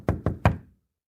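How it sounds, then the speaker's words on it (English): Three sharp knocks on a door in quick, even succession, close and crisp, the last one slightly heavier, followed by silence. "there was a knock at the door."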